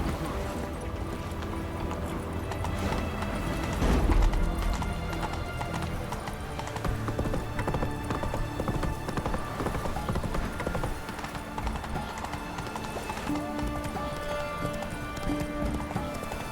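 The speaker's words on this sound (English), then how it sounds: "Horse!" Horse hooves gallop in The Witcher 3 video game, a steady clip-clop running for the whole stretch, with a whinny and game music and ambience layered around the hoofbeats.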